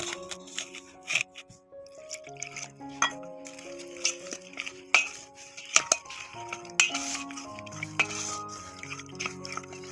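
A spoon stirring patisapta batter with milk in a bowl, producing irregular clinks and light scraping over a faint musical background, with no voices.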